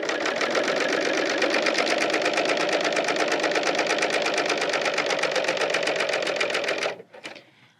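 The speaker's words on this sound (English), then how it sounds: "I will now serge to the end of the fabric here, just where the needles are out the very edge" A Bernina L890 serger overlocks along a fabric edge in a fast, steady mechanical whir of rapid stitching that runs close and loud for several seconds, then stops abruptly with a few small clicks.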